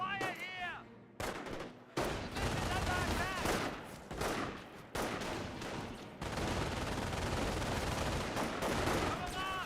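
Gunfire in the World War II strategy game Company of Heroes, with dense, sustained rifle and machine-gun volleys crackling loudly in long bursts and brief gaps between them, mixed with whizzing effects.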